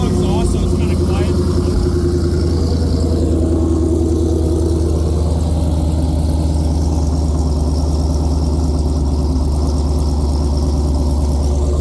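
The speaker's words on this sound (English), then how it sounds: "Like I said, it's a thermal exhaust, so it's kind of quiet." A manual Dodge Challenger Hellcat widebody with a ported stock supercharger and a thermal exhaust idles with a steady, fairly subdued low rumble, while people talk over it.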